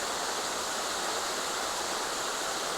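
A waterfall on a creek pours with a steady, dense rushing roar that holds unbroken throughout, with no voices over it.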